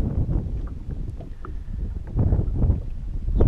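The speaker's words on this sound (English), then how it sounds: "It's pretty windy out here." Steady wind gusts rush and buffet around an open fishing boat on cold water, a constant low roar that swells louder in the second half with no talking.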